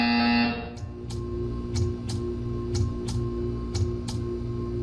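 Portal 2 video game buzzer sounding as a series of short, evenly spaced bursts about once per second, each a bright broadband zap over a steady low electrical hum, with no talking.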